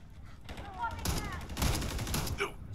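Gunfire in the video game Call of Duty Modern Warfare III, with several rapid bursts of shots at moderate loudness and game voices calling out between them.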